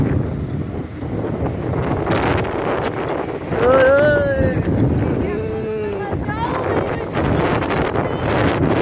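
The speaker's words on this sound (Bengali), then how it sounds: "দেখ কি হাওয়া উঠছে" Strong, cold wind rising ahead of an approaching storm roars steadily into the microphone as a continuous buffeting rush, with people talking over it throughout.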